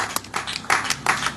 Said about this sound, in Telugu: చప్పట్లు కూడా దేవుని మహిమపరచండి.